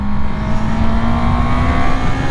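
A 2019 Honda CB650R roadster motorcycle engine hums loudly and steadily while riding, a constant close drone with a strong low buzz and no talking.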